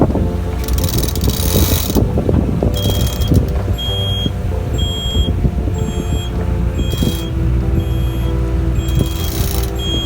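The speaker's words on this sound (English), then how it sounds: "That bleeping's just a radar alert" A radar alert bleeps aboard a sailing boat crossing the Bay of Biscay, a repeated high electronic beep pattern over loud, constant wind and rushing water noise with creaking rigging.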